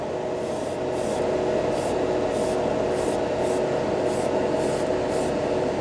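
An airbrush sprays grey Mr. Hobby acrylic paint onto a spoon, a steady close hiss broken by short rhythmic bursts, with no talk.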